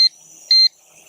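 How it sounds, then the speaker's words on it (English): A toy quadcopter beeps while returning to home. Three sharp, high electronic beeps come at regular intervals of roughly half a second, loud and close, with no voices. "So it's beeping, it's turning back towards me."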